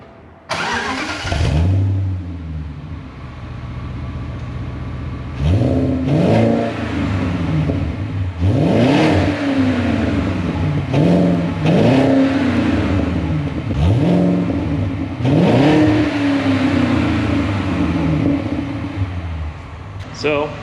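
A 2005 BMW 545i V8 with a homemade exhaust built from a spare muffler and tip starts up and revs repeatedly, loud and close, each rev rising and falling in steady pulses over a rumbling idle.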